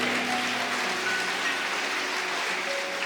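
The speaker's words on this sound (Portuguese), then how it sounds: "Você pode dar um glória a Deus e um forte aplauso ao Senhor?" A church congregation applauding during a sermon, a dense steady wash of clapping that holds evenly through the whole moment.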